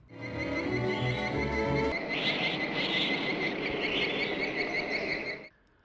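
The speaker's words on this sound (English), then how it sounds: "some of you 50s sci-fi fans will recognize this sound effect" A 1950s sci-fi spaceship sound effect from a Looney Tunes cartoon: a warbling electronic tone with pulsing high whines sweeps and oscillates, then a steady shrill pulsating hum holds before cutting off abruptly.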